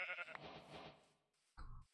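A sheep in modded Minecraft bleats after being hit, giving a wavering bleat followed by a short second bleat after a brief pause, near and clear.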